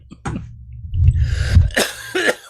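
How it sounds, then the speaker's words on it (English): A person coughs a few times, close and fairly loud, with harsh bursts separated by short breaths, and no talking. "Oh boy, cough drop time."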